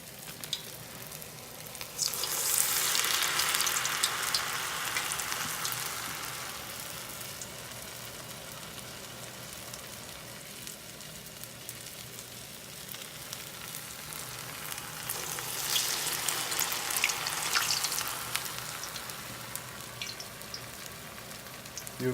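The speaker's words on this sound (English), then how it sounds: "Then you drop it in the hot oil." Medu vada, urad dal fritters, deep frying in hot oil, a steady close sizzle and crackle that swells twice into louder bubbling bursts.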